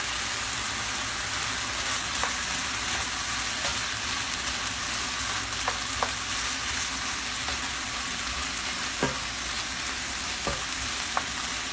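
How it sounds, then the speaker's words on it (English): Sausage frying in a pan alongside crisping bacon for spicy cajun chicken pasta, a loud continuous hissing sizzle with occasional pops and utensil taps, close up and without talking. "I'm going to go ahead and throw the sausage in there."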